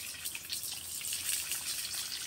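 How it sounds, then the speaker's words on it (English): Water rushing up through a CET fire pump, a steady hissing gush with bright splashy texture, close and continuous with no voices. "this water is coming up through the pump."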